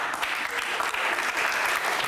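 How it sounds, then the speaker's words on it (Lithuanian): Steady audience applause fills a talent show hall, dense and continuous throughout without a break. "O kodėl jie ploja?"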